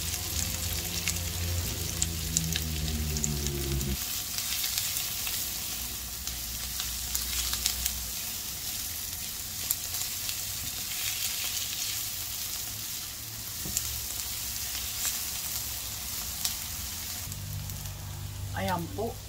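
Plenty of garlic sizzles in a pan for chicken adobo, a steady bright crackling hiss running throughout with faint clinks near the start and end, close up and without speech.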